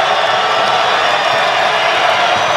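Basketball arena crowd at a Nevada men's game against Air Force, a dense, steady roar of cheering that holds at full loudness throughout, with no gaps and no single voice standing out.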